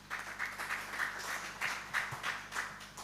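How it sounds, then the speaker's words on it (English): Audience applause at a forex bureau and money remittance association's 25th anniversary celebration, steady pulsing clapping from a crowd, heard somewhat distant and moderately quiet. "Can we have a louder round of applause for him, please?"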